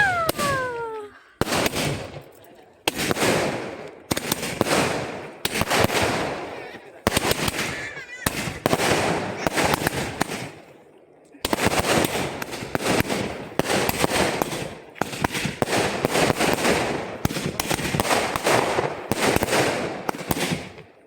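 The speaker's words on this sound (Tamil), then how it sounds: "அப்புறம் இது வந்து 100 வாலா வெடி." A 100 wala firecracker string bursts at a Diwali celebration, loud rapid crackling volleys in repeated bursts separated by short pauses, with brief faint sounds between them.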